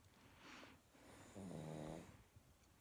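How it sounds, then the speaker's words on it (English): A dog snoring right next to the microphone gives two faint, rough breaths, the second a longer rattling snore, in a quiet room with no talk. "if you hear weird noises, it's because my dog is snoring right next to me, and he's really loud"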